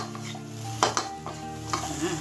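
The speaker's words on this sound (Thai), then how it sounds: "วิธีการผัดเพื่อนๆ ก็ ช้อนตรงจุดนี้ขึ้นมาแล้วค่ะแบบนี้เลยน" Crispy fried snakeskin gourami tossed in a pan with chili and salt: a few scraping spatula stirs and short sizzling bursts over a steady background hum, close and moderately loud, with no talking.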